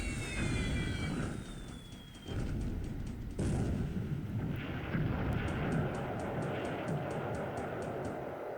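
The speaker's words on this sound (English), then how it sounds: "torpedo hits on Saratoga number 2 already, plus a bunch of more dive bomber attacks" Naval battle sounds from the strategy game War in the Pacific, a dense rumbling roar of explosions and gunfire with a low heavy wash, distant high whistling streaks and a rapid run of ticking blips, continuous throughout.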